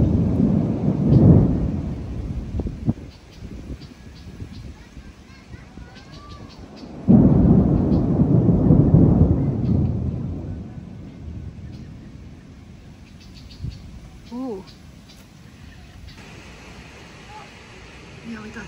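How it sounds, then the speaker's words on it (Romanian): Thunder rolls heavily through a storm, two long rumbling peals a few seconds apart over steady rain, with faint softer rumbles trailing off near the end. "A început să fulgere."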